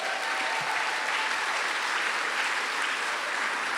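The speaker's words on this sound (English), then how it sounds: "Can you give me a big round of applause?" A large, rowdy convocation crowd claps loudly, a dense and steady round of applause that holds at full strength for several seconds with no talking over it.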